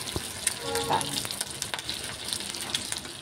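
Potatoes fry in hot oil in a wok, giving a steady, close crackling sizzle with a few small clinks near the start and no talk.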